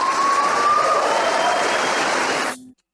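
Loud, dense applause from a debate audience fills the space steadily, with a faint tone running beneath it, then cuts off abruptly near the end.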